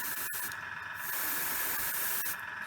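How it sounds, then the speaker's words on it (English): White-grey paint sprayed from above onto a collector's bust: a continuous airbrush hiss, steady and close, with a brief break near the start. "I'm just going to spray it from above"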